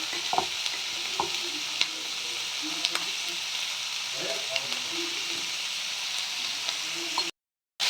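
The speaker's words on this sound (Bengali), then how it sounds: "এটা একটা নর্মাল একটা পাঁচমিশালি সবজি রান্না করছি" Mixed vegetables fry in a pan with a constant sizzle, punctuated by light scraping stirs and taps of the utensil, close up.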